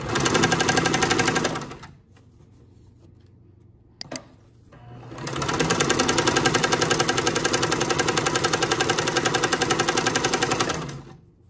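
A Janome sewing machine stitching a straight stitch, loud rapid mechanical whirring in two long runs separated by a quiet pause with a brief click.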